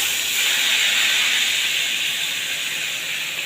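Water poured into a hot pan of hilsa fish curry with salted, turmeric-coated eggplant gives a loud, steady hiss of steam that holds evenly for several seconds, with no talking.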